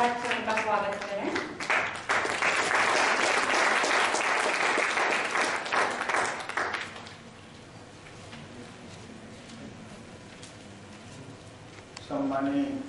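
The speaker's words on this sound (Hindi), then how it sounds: "तालियों की गड़गड़ाहट से उनका स्वागत करें" An audience at a youth workshop on Maoism in Raipur breaks into loud, sustained applause to welcome the main speaker, then the clapping fades to quiet before a voice resumes speaking.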